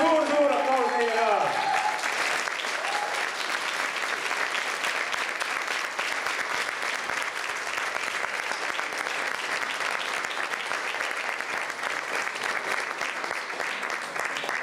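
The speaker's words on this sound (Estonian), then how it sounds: "Suur aplaus neile ka." Audience applauding the song-category winners at an awards announcement, a sustained, dense round of clapping that starts under a fading voice and continues evenly and loudly throughout.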